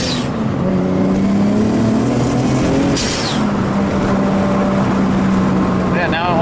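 A 1JZ engine running rich in an S14 drift chassis revs loudly up close. Two rising pulls carry a climbing turbo spool whine, and there is a brief drop in between.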